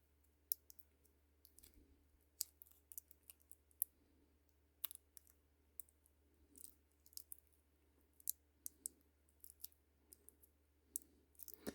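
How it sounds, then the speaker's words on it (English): A hobby knife trims excess material off an N scale RS 11 model locomotive, giving sparse, faint, close clicks and scraping snips at irregular intervals over a quiet background. "And I'm going to cut the excess off on this side as well."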